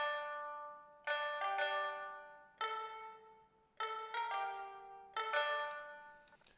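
Plucked Chinese pipa samples from a free virtual instrument, with a sustained synth lead layered on top, playing bright repeated note clusters in bursts about every second, each ringing and decaying, with no talking.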